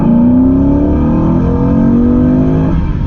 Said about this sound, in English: I have figured out a cheap and cost-effective way to amplify your intake sound and to get it into the cabin of your car.